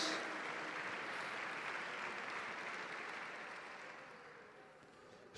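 A church congregation at a night worship service applauds, a dense wash of many hands clapping steadily that tapers off slightly toward the end.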